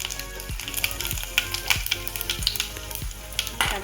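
Panch phoron spices frying in hot oil alongside dried red chilies and bay leaves, a steady close sizzle broken by rhythmic stirring scrapes about every half second.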